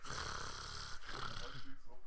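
A voice imitates loud, choking snoring up close: a rough, gurgling rasp that catches and sputters over about two seconds.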